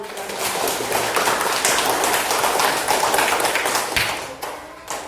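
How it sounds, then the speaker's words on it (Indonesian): Schoolchildren in a classroom clap their hands together in a dense, continuous burst of many overlapping claps, lively and fairly loud, fading near the end. "Oke, tepuk tangan."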